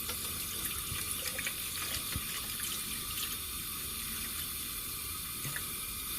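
Vinegar poured from a bottle into a container of Coleman 502 stove parts, a steady close splashing trickle of liquid lasting several seconds over a faint background hiss, no talk.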